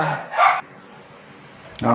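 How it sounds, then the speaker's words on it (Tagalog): Household dogs in the Philippines barking, two loud, close bursts of barking with a quiet gap between them, against a hushed indoor background. "Maingay yung mga aso namin."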